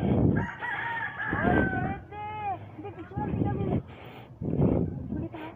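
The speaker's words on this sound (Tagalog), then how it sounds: "Manok lang malakas dito. Yun oh, manok." A rooster crows loudly nearby on a farm in Barangay Makilas, Ipil, Philippines, its long rising-and-falling call repeating a few times over rumbling background noise and voices.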